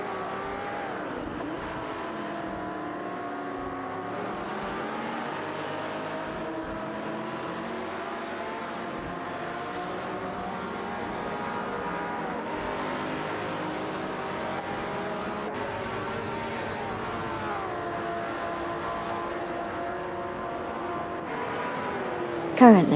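Race cars overtaking in an AI racing game: sustained engine whine with shifting revs as several cars run close together, a continuous mid-level drone ending in a brief sharp burst.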